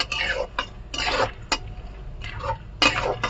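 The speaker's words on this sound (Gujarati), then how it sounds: "હવે હળદર નાખ્યા પછી આને વ્યવસ્થિત હલાવી લેશું." Chevdo is stirred in a pan after turmeric goes in, giving repeated scraping and clattering strokes of a spoon against the metal in short bursts with brief pauses, close and fairly quiet, with no talking.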